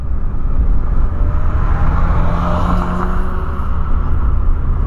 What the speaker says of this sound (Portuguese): o carro tá baixo pra caramba e o cara acelera daquele jeito